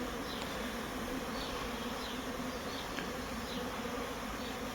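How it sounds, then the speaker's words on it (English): Honey bees hum steadily around a Layens horizontal hive outdoors, a dense continuous buzz with individual bees passing close now and then. "I've got a bee around my head."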